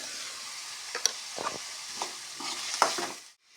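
Finely chopped onions with salt sizzle in a pan for avalakki, a close frying hiss broken by several scraping stirs and light clinks against the pan, cutting off abruptly near the end.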